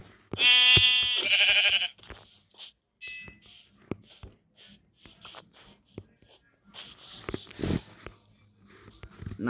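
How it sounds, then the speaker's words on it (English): A sheep in the video game Minecraft gives a loud, close bleat near the start, followed by soft shuffling, clicks and brief sounds under quiet talk. "Sheep."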